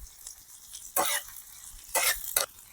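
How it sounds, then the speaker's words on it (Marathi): Onions sautéing in oil over an outdoor village wood-fired chulha give a faint low sizzle, with a few sharp scraping bursts as the pan is stirred. "मस्त कांद्याला लाल होईपर्यंत परतून घेऊ"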